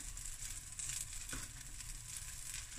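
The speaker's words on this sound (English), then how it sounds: "So it will fry about 2 to 3 minutes on each side." Blueberry pancakes fry in a pan with a steady, soft sizzle, a continuous crackle of hot batter that holds at an even low level throughout, with no voices.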